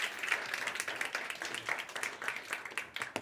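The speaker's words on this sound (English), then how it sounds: "Let's do a round of applause for Jarkko for his demo here." Applause from the audience at a cybersecurity event on a Saturday morning, following a demo, with steady clapping at moderate level and no talk over it.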